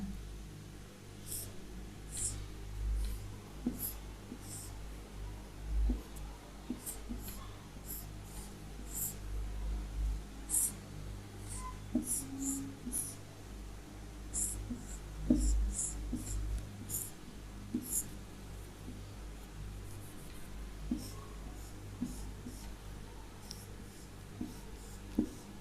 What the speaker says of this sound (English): So we'll draw the nucleotides here.